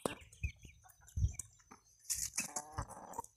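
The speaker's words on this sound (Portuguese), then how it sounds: "Essa galinha mais velha aqui do terreiro" Chickens on a small farm's yard cluck in short, irregular bursts, with several calls overlapping near the end; the hens are close and fairly clear, with no talking.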